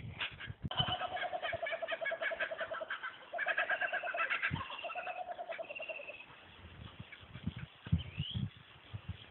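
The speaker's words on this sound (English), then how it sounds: "that's the magpies up in the tree up there" Magpies calling up in a tree, a run of warbling, fluting pulsed calls repeated for several seconds, moderately near, with some knocks and handling noise below.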